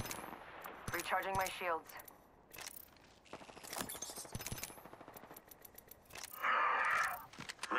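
Gunfire crackles in the video game Apex Legends on the Worlds Edge map, with bursts of rapid shots, game effects and a mid-match voice line speaking over the shooting.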